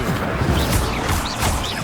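An Incendio fire spell is cast in Hogwarts Legacy, producing a loud, dense burst of crackling, roaring flame that holds steady for under two seconds.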